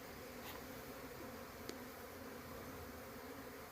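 A steady, dense buzz of many Africanized honeybees swarming in a tree continues throughout, fairly faint and even, with no talking.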